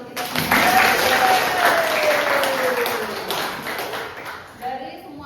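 A classroom of students claps steadily for a few seconds, the applause fairly close and loud, with a faint tone running beneath it before it fades.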